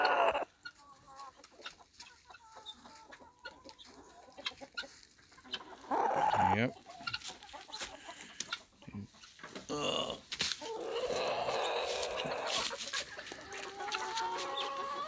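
Chickens cluck and squawk in a backyard pen around a tiny house, with guinea fowl kept nearby; the calls come in irregular bursts, some close and loud, over rustling, with a voice talking now and then.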